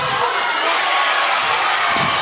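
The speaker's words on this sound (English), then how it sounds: "The crowd goes nuts." A home crowd at a close Loxton men's basketball grand final roars in a dense, sustained wall of cheering and shouting that stays loud and steady throughout.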